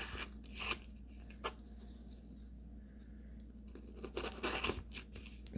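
A CJRB Bolt knife slices through material, giving faint scraping and tearing strokes with intermittent crunchy cuts at close range.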